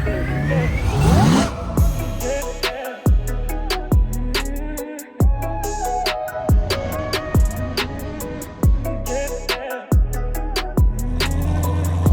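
A built C7 Corvette Z06 making about 816 horsepower on E85 accelerates hard through repeated upshifts, its loud engine revs climbing and dropping with gear changes on a ride, no talk.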